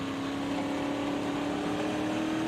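Stock car engine racing on the Sharon Speedway dirt track, a steady droning hum with a strong sustained tone, throttle held light and even, continuous and fairly loud throughout.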